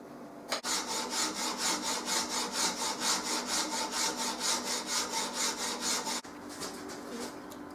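A hand file rasps across a wooden archtop guitar tone bar in steady, rhythmic back-and-forth strokes, close and fairly quiet. About twenty even strokes are followed by a brief pause.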